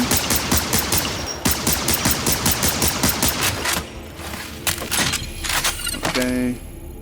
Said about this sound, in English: I'm just having fun shooting around